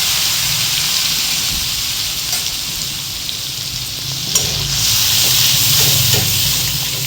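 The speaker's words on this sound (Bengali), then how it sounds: "আদা, রসুন, পেঁয়াজ বাটা, ধনে গুঁড়ো, জিরে গুঁড়ো, লঙ্কা গুঁড়ো দিয়ে কষা হচ্ছে" Ground ginger, garlic and onion paste with coriander, cumin and chilli powders frying for Bengali fish kalia, giving a loud, continuous close-up sizzle with stirring that swells louder toward the end.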